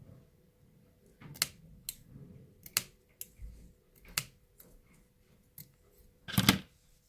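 Scissors cut paper for a gift tag in a series of short, crisp snips spaced irregularly across a quiet room, with one louder cut near the end.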